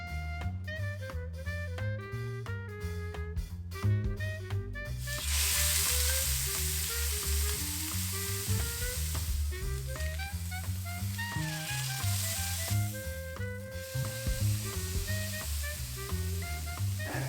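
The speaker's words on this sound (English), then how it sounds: "For searing, I'm just going to use a 12-inch stainless steel skillet" Beef tenderloin sears in a hot 12-inch stainless steel skillet, a loud steady sizzle and crackle of frying that surges after a few seconds and carries on over background music.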